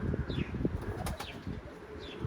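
Pigeons flapping their wings in a stormy wind, with a few short bursts of wingbeats over a constant loud rumble of gusting wind.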